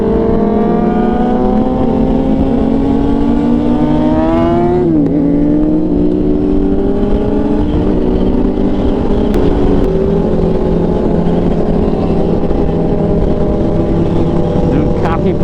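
Ducati Panigale big bike engine droning loudly and continuously on a group ride, its pitch rising and falling as it revs and shifts, with a sharp gear change near the middle.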